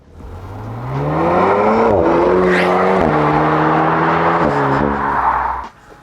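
An Alpine A110 driven by James May roars past close by, engine note climbing through rising revs with gear changes, loud and sustained before quickly falling away at the end.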